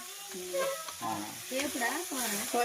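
Quail curry sizzles and fries in a pan while being stirred, a steady close crackle carrying through, with a voice speaking over it throughout.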